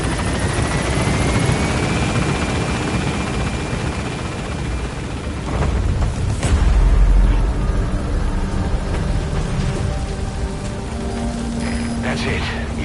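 A helicopter in the Metal Gear Solid V video game roars steadily as it lifts away, its thick rotor wash loud and continuous with a swell midway, over a constant noisy bed.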